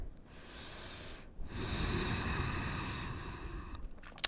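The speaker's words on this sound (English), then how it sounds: "Take a cycle of breath." Slow breathing in a yoga forward fold: a soft breath, a short pause, then a long, airy, drawn-out exhale close to the microphone, ending in a few light rustles.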